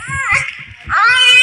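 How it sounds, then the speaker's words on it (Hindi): A baby cries in two strained, wavering wails, loud and close, set in a dense forest scene of a folk theatre drama, with low thumping sounds beneath. "बच्चे की रोने की आवाज"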